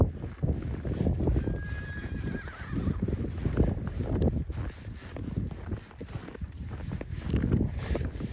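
A herd of wild horses is approached by a rider on horseback, with a high neigh, scattered hoof clops and shuffling movement at moderate distance over a continuous outdoor rumble.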